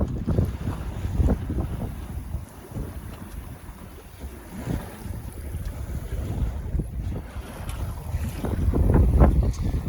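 A Leisure 17 sailboat runs fast in a strong wind, with gusty wind buffeting the microphone in uneven bursts over the wash of water against the hull, fairly close and steady throughout.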